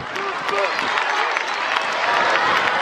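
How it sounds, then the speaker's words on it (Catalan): Audience at a school cantata in Pineda de Mar bursting into loud, sustained applause with cheering voices, dense clapping filling the hall throughout. "Així que un fort aplaudiment per tots els que ho fan possible."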